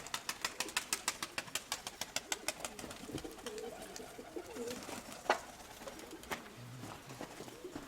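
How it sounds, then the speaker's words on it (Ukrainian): Pigeons coo softly nearby in a loft, a run of quick rhythmic pulses at first giving way to looser, fainter calls and rustling, all fairly quiet. "Да, красивенькі голуби."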